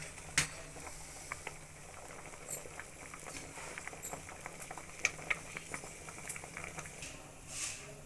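A pot of lablab bean dal sambar bubbles and pops steadily on its own, small irregular blips over a low simmer, close and fairly quiet.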